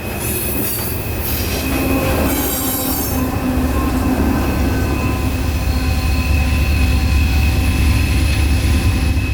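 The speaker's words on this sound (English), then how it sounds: "Distributed power locomotive number 3051, helping handle this 102-car long loaded coal train" A 102-car loaded coal train with distributed power locomotive 3051 rolls past close by, a loud continuous rumble of wheels with high squealing and clanking from the cars, no voices.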